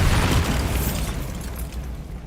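A Bombarda spell explodes in Hogwarts Legacy: a loud, deep boom opens, then a rumbling roar fades slowly over about two seconds.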